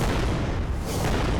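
A short, dense burst of booming explosions from the hull of the battleship Bismarck in a video game, loud and rumbling, with no voices.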